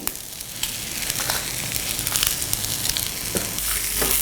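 Curry leaves and dried red chilies frying in hot oil for a besan dosa tempering, a loud, close crackling sizzle with small sharp pops throughout, no voices.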